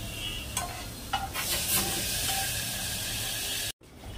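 A thin semolina and dalia porridge cooks in a pot with a continuous hissing, bubbling wash, broken by a few soft scrapes of stirring before a sudden brief cut.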